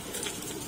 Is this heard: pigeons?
yes